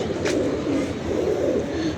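Pigeons cooing in a loft, a steady low throaty burbling close by and filling the whole short stretch, with a faint brief higher sound near the start.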